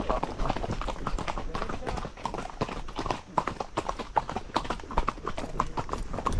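Horse hooves clip-clop steadily and quickly while riding along a jungle trail, close and fairly loud, with the riders' voices talking and calling out over the hoofbeats.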